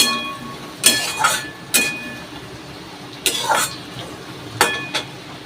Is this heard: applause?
no